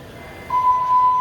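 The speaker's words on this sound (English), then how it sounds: "Just as the fire alarm went off" A steady electronic tone from a fire alarm in the Toronto PATH underground walkway cuts in sharply partway through and holds loud and continuous over a low indoor hum.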